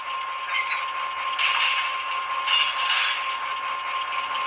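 An ESU LokSound decoder in a Walthers Proto HO-scale EMD GP9 model locomotive plays its coupler clash effect, a continuous metallic clanking and rattling with a few louder bursts, heard alone over a few seconds.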